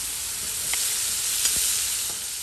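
Onion and seasoning frying in oil for Guyanese fried spinach and shrimp, a steady bright hissing sizzle with a few faint ticks of stirring, no voices.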